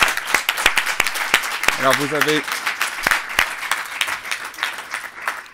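Audience at a finance conference on energy efficiency bursts into applause, sharp individual claps rising into a steady crackle of many hands, while a voice briefly speaks over it partway through.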